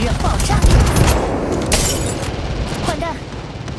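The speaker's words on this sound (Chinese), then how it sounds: "烈焰手雷，希望你会暖和。 让我看看敌人爆炸。" A thermite grenade bursts in Apex Legends Mobile gameplay, a loud booming blast with crackling fire and scattered gunfire under a talking voice.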